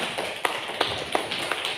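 Sparse, half-hearted clapping at a workshop, a handful of separate claps landing in a slow irregular rhythm over quiet room noise.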